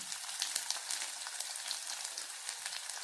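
Onion frying in hot oil with cumin seeds and bay leaf for dal khichdi, a steady crackling sizzle with fine popping, close and continuous with no talking.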